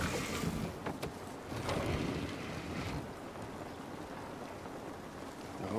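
Rain in The Last of Us Part 1 video game, a steady broadband hiss of falling rain with some wind-like rushing, moderately faint and continuous with no speech.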